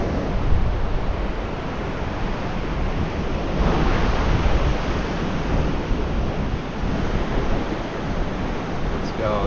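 Ocean surf breaks steadily on Second Beach along the Washington coast, a loud, broad wash of waves with wind rumbling across the microphone and no pauses.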